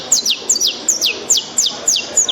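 A person whistles an imitation of the canário-da-terra songbird, giving about seven repeated bright chirps with falling sweeps at an even rhythm, loud and close, with no talk.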